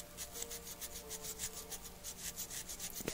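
Hand sanding of imperfections on a metal toy part before priming and painting, a faint rhythmic rubbing of about a dozen back-and-forth strokes, close and quiet with no talking.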